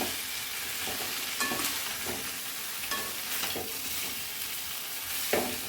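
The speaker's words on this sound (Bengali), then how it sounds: "বরবটি কুমড়ো ভাজা শেষ হয়ে গেল" Yardlong beans and pumpkin stir-fry in a pan, with a soft steady sizzle broken by occasional scraping stirs of a spatula, fairly quiet and close with no talking.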